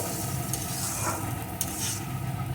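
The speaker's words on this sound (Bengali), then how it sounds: "এখন পেঁয়াজ বাটাটা বেশ কিছুক্ষণ ধরে কষিয়ে নেব" Ground onion paste sautéing in a pan, a steady, close sizzle and hiss that runs unbroken throughout, with occasional faint scrapes of stirring.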